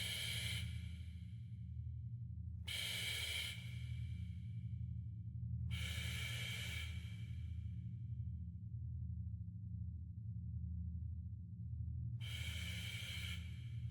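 Scuba diver's regulator breathing underwater: four loud, hissing inhalation bursts at a slow, steady pace over a continuous low bubbling rumble, with no talk.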